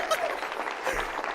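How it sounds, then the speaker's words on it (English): Thin, scattered clapping from an audience at a presidential campaign announcement, faint and brief, with a few isolated claps standing out over a soft crowd murmur. "They're just all pretending to clap like barely."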